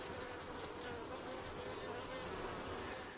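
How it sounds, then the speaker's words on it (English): Bees swarm at a hive in a century-old coast live oak, a dense, steady buzzing drone that fills the air evenly, fairly close but soft, with no voices. "under this century-old Coast Live oak, we can see how it is truly alive, alive with the beehive"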